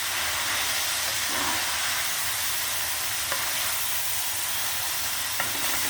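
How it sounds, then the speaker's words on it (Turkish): Mulberry leaves sautéing in a pan give a steady, dense sizzle and hiss, with a few soft stirring scrapes and clinks rising briefly above it, heard close up with nobody talking. "Şimdi arkadaşlar bu asma yaprağına göre dut yaprağı daha sert olduğu için güzelce kavuracağım."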